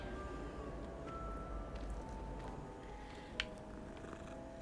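A cat purrs softly in Hogwarts Legacy, a low continuous rumbling hum, faint and steady, with a small click near the end and no talk.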